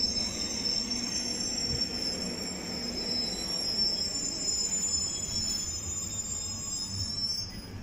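A train runs past a station platform at Woodside Park, a continuous rumble of wheels on rails with high metallic squeals throughout, close and steady.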